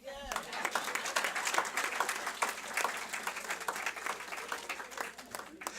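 An audience at a Caribbean diaspora community awards event applauds honorees, steady dense clapping from a crowd lasting several seconds, moderately near.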